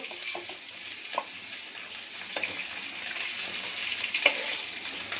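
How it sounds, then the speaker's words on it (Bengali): Eggs frying in a pan, a soft continuous sizzle with occasional crackles and light scrapes, fairly quiet and with no talk. "এখানে ভাজা হচ্ছে, আর এখানে ডিম তো ভাজি হয়ে গেছে"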